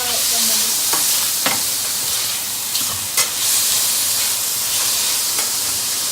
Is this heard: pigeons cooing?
no